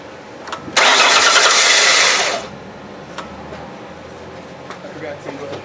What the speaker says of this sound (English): now we're going to start it up and see if she runs smooth.